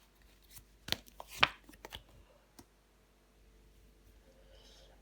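Tarot cards being laid down to cover another card on a table: a few soft, quiet taps and slaps close by, clustered early, then near silence.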